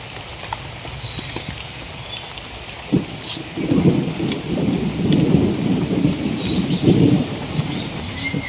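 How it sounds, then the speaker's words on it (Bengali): Heavy rain pours during a night storm, a dense steady roar that swells louder midway, with a rumble of thunder and sharp cracks breaking through. "আর একবার বৃষ্টি নামতে আছে"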